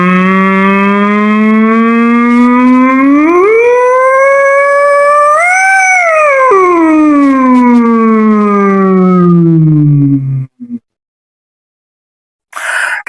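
A human voice imitates an ambulance siren as a vocal exercise, gliding slowly from low to high pitch and back down in one sustained, loud breath, then a brief breath and silence.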